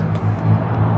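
A C4 Corvette with an aftermarket MagnaFlow dual exhaust idles close by, giving a steady, deep, droning rumble with no revving.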